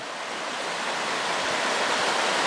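A swollen brown river rushes past in a continuous loud roar of churning water, broad and steady without pause, close to the listener and with no voices.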